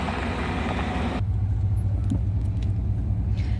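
Pickup truck driving, heard from inside the cab as a steady low rumble of the engine and road, with a brief shift in tone early on and a constant, moderately loud drone throughout.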